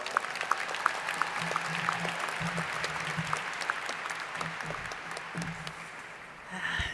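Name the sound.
audience applause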